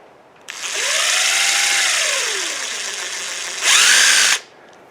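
Cordless drill fitted with a nibbler attachment, a loud steady whine while cutting with a falling and rising motor pitch, then a shorter higher-pitched burst before stopping.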